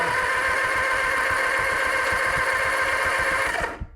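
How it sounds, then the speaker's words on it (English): Norton motorcycle engine running on its first spin with carbs and throttle fitted, a loud, steady mechanical whir and rapid ticking close by that cuts off abruptly at the end. "So we got a spinning motor."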